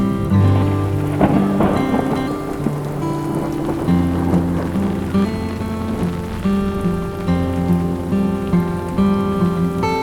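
Steady rain pours down over a shrimp farm throughout, a dense continuous hiss with scattered droplet patter; no voices, and a low tonal layer runs underneath.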